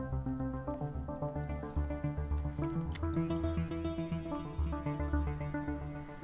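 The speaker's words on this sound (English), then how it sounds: "it's a droplet, that's how it's called. And it's sort of like a water sounding bass." GarageBand's droplet synth bass, a watery, bubbly-toned patch for a tropical house beat, plays a busy rhythmic pattern of plucky repeated notes with soft melodic figures on top, moderately quiet and without any voices.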